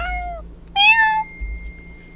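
A cat meows in the video game Don't Take the Cat Home, two clear close meows, the second longer and rising, over a low steady background hum.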